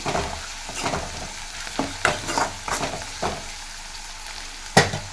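Fenugreek leaves fry in hot oil with a soft steady sizzle, broken by intermittent scraping and stirring strokes of a utensil in the pan, heard close with no talking.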